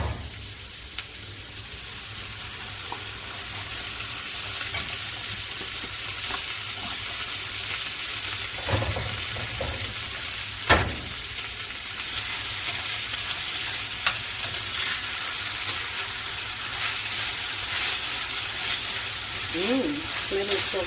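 Vegetables and beans fry in a pan for chakalaka, a steady moderate sizzle with occasional stirring scrapes and clinks across the whole stretch.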